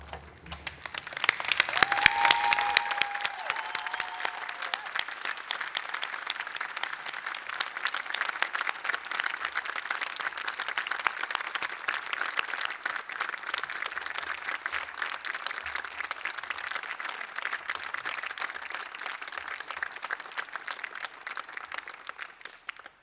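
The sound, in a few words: round of applause for graduates at ceremony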